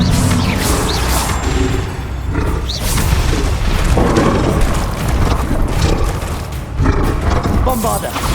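Bombarda and Confringo spell explosions in the Hogwarts Legacy video game, heavy booms and crashing bursts rolling over a roaring, chaotic battle mix, with short bright whooshes and several distinct impacts spread across the stretch, loud throughout.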